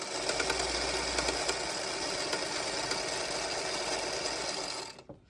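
A sewing machine runs steadily and close, stitching 2.5 inch quilt squares together with a continuous whirring hum, then stops near the end.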